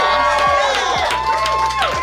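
A massive crowd at Firehouse BBQ in Soldotna, Alaska, loudly cheers and shouts as an eating contestant takes on the 8-Alarm Burger Challenge, with excited voices and whoops overlapping throughout the short burst.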